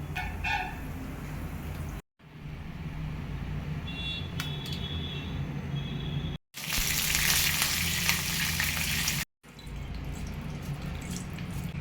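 Spices tempering in a spoonful of hot oil for a snake gourd and cabbage chutney sizzle steadily up close, a continuous crackling fry broken by a few brief cuts, with one louder, brighter burst partway through.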